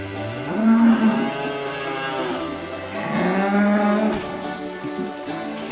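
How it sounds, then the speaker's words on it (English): A herd of about 100 cattle on a drive to summer pasture, with the tail end passing: two long, close, loud moos stand over a constant background of further lowing from the herd. "We moved about 100 head this morning to summer pasture."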